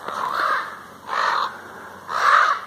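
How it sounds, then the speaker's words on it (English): A large flock of around fifty or sixty crows caws in three loud, harsh bursts, each lasting about half a second, separated by brief pauses, with no voices over them. "I walked in here, and all these crows flew up"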